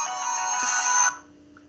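A phone ringtone plays loudly and steadily for about a second, then cuts off abruptly, leaving quiet room tone.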